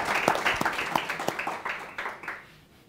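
Audience applause after a panel talk on the future of creativity, a dense burst of clapping from a live crowd that swells briefly and then tapers and fades out over a few seconds.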